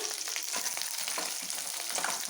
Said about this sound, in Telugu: ఆయిల్ వేసుకొని కొంచెం హీట్ అయ్యాక ఎండుమిర్చి ఫ్రై చేసుకోవాలి ఇందులోనే మనం ఈ పల్లీలు కూడా వేసుకునేసి ఫ్రై చేసుకుందాం